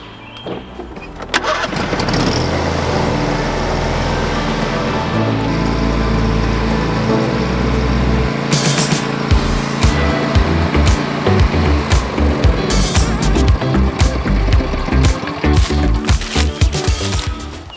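A lawn mower starts up and then runs through tall, thick grass. The engine is loud and close, and its note lugs and bogs unevenly as it chews into the growth.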